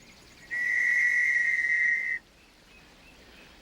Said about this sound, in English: First guy that sees him, blow your whistle